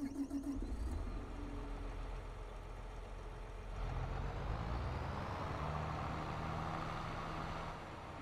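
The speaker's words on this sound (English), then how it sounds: "Look at that tractor." A tractor engine runs loudly and steadily close by on a farm during soybean planting and rolling, with a low droning rumble that swells slightly partway through and continues without pause.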